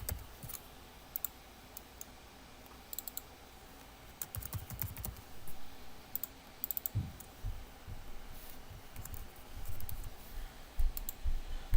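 Quiet room with bursts of computer keyboard typing, short clusters of clicks separated by pauses and growing busier toward the end, close and fairly soft with no voices.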